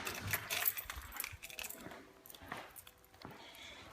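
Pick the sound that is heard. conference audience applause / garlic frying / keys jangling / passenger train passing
keys jangling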